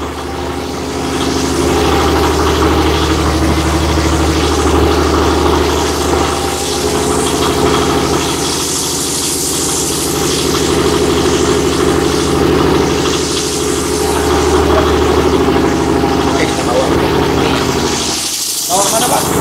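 A dough-cutting machine runs in a tiktak snack factory with a steady, droning mechanical hum. Voices talk over it throughout.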